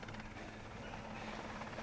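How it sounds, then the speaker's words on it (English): An arriving relief helicopter makes a steady, faint rotor drone with a constant low hum, held at a distance in a dramatised rescue scene, without voices. "Here's the relief helicopter."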